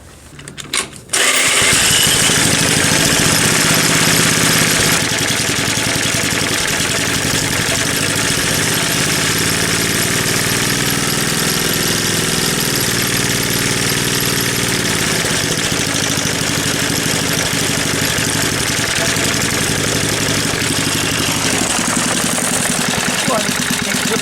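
Small petrol engine fitted with a new diaphragm starts after a brief bit of handling noise, then runs loud and steady at a constant idle-like pitch for the rest of the clip.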